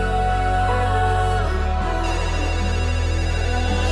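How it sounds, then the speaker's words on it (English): A phone ringtone chimes within a dense, loud song, its tone blended into the steady synth-and-bass mix rather than standing apart. "Oh, it is a phone."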